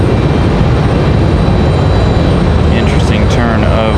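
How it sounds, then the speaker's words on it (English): A United airliner's jet engines roar loud and steady during a go-around at Raleigh-Durham International Airport, a dense unbroken rumble filling the whole stretch. "United going around due to Delta sitting on the runway."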